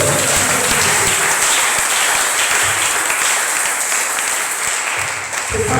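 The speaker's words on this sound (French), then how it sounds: "Est-ce qu'on peut acclamer ce livre?" A church congregation at a Sunday service applauds a book: loud, sustained, dense clapping from a large crowd throughout.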